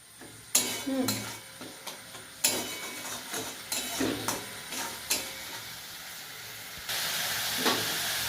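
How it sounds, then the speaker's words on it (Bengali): Spice paste for garlic pomfret fish sautéed in a pan with a little sugar, a soft sizzle broken by repeated scraping strokes of a spatula, then a steadier, louder hiss near the end. "এবার এটাকে ভালো করে কষিয়ে নেব।"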